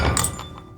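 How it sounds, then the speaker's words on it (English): A glass cup knocked off a hassock beside a floral couch lands with a dull thunk and a brief faint clatter, close and alone in a quiet room. "He wakes up with a stretch that knocks a glass cup off the hassock."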